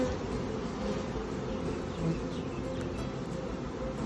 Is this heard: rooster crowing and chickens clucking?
no